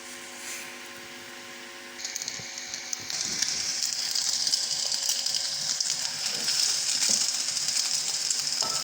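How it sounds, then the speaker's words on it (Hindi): Eggs frying in a little oil in a pan, a soft sizzle that starts after a couple of seconds, rises, then holds as a steady close hiss with no voices. "एंड में हम हल्का सा ऑयल डालेंगे और अंडों को हम फ्राई कर लेंगे।"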